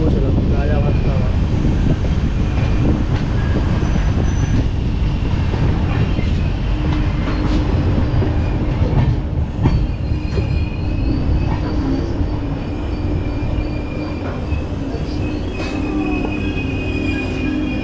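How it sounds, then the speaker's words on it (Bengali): A train pulling out of Rajabhatkhawa station near Alipurduar, with loud, continuous rumbling carriages and squealing wheels heard close by throughout. "যে ট্রেনটা আসলাম ওই ট্রেনটা বেরিয়ে গেল"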